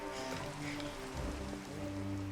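Constant rain patters down in a roleplay video game, a dense even hiss of drops that carries on with no voices over it.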